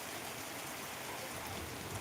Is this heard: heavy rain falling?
yes